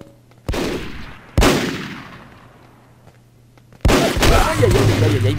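Sniper rifle shots in the video game MicroVolts: three loud, sharp reports spaced apart, each with a long decaying tail, the last followed by busy game noise and a faint hum.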